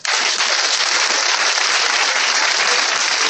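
A church congregation applauding and cheering at a French-language prayer service, loud, dense and continuous clapping filling the space without pause.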